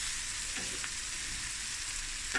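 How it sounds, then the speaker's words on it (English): Steady, even sizzling of prawns frying with spices in hot oil and butter, a continuous crackling hiss with no voices. "I'm just frying it lightly in the spices and the oil and the butters"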